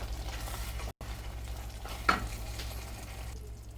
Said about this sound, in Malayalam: ഇതിലേക്ക് നമുക്ക് നേരത്തെ പൊരിച്ച് വെച്ചിട്ടുണ്ടായിരുന്ന കൊഞ്ചും കൂടെ ചേർത്ത് കൊടുക്കാം.